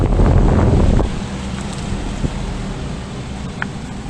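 A 2014 Carrier Gemini split-system heat pump outdoor unit with a newer fan blade design runs nearby, a loud airy rumble that drops to a softer, steady whooshing hum after about a second, with no voices.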